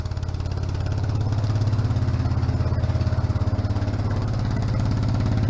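A small garden tractor engine runs loud and close, a steady pulsing chug with a rhythmic low throb and no talking.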